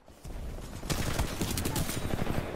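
Rapid gunfire in the multiplayer shooter Titanfall 2, a dense burst of overlapping shots continuing without pause, loud and close.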